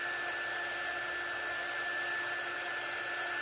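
A hair dryer runs with a steady, even whine and airy rush, used to dry a layer of a craft project, close and uninterrupted.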